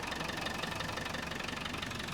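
A 1995 Land Rover Defender 90 with the 300Tdi diesel engine running steadily, a dense even clatter and hum that holds level throughout, close and fairly loud, with no voices over it.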